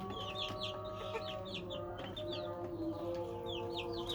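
Native desi chickens on a small poultry farm cluck repeatedly in short overlapping bursts, fairly quiet and close, over a constant low mechanical hum.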